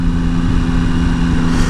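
A 2014 Triumph Tiger 800XC motorcycle with its stock exhaust drones steadily and loudly up close, a constant mid-pitched engine hum with no pauses or talk.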